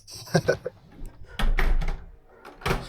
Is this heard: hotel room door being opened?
yes